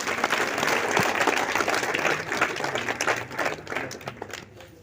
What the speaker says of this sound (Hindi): वेरी गुड, तालियां बजाएं के लिए